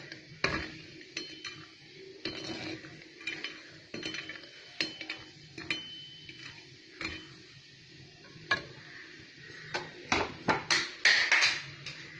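Badi, small dried lentil dumplings, are stirred around a hot pan, giving scattered scraping and clinking strokes of the spoon over a faint sizzle, irregular and close, growing busier toward the end.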